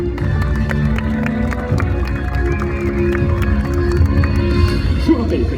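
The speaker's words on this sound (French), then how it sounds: "Et vos applaudissements!" Crowd in the stands at a diving show applauds and cheers, a dense wash of clapping and voices mixed with music and background chatter.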